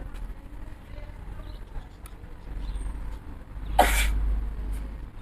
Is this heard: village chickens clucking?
no